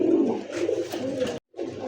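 A large pigeon coos loudly and close by, giving a low, throaty warble that breaks off briefly near the end and then starts again.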